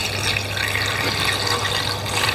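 Cold brew coffee is poured and strained through a nut milk bag into a Thermomix jug, giving a steady, close, continuous splashing trickle of liquid with no talking.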